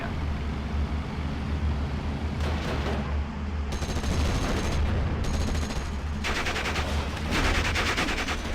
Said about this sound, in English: Let's just open up now with the mortars.